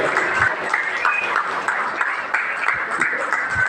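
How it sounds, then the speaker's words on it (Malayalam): A packed audience at an Onam celebration claps together in sustained, dense applause, a continuous rattle of many hands near and far without a break. "നിറഞ്ഞ സദസ്സിന്റെ കയ്യടി വേണം"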